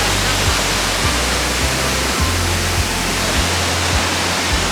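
A waterfall in Glacier National Park roars as a loud, steady wash of broadband noise, constant and close, with faint low thumps beneath it and no talk.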